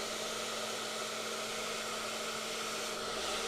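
A hair dryer blowing hot air while hair is styled with a brush, a constant close-up whir with a slight tonal hum and no talking.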